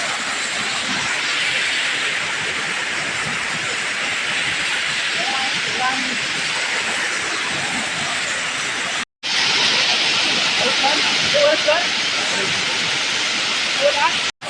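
Loud, steady roar of rushing water from a stream swollen by rain, a constant wash of noise that drops out for a moment and then resumes.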